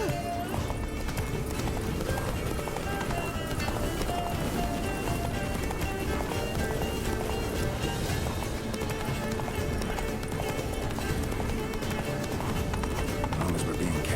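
Roach, Geralt's horse in The Witcher 3, galloping with steady rhythmic clip-clop hoofbeats that run continuously and fairly loud, while people talk over them.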